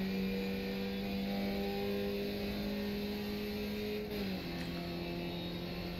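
Skip Barber race car in iRacing accelerating hard at Silverstone, a steady droning engine note climbing in pitch, then a brief dip as it shifts, continuous and close throughout.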